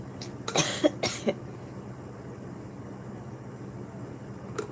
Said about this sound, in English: now I'm coughing off of those